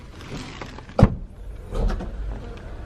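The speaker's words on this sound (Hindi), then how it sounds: "अब मैं बटन दबाऊंगा और डिग्गी खुल जाएगी।" Prince Pearl car's boot unlatches at a button press, giving a single quiet thunk followed by a low motor whir and faint rustle, close by with no talking.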